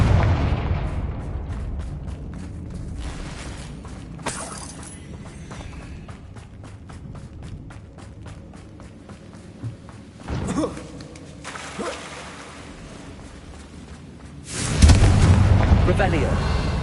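Confringo blasting spell explosions in a magic video game, sounding as several booming bursts spread across a busy mix of music and effects, the loudest blast near the end, with a voice speaking at moments.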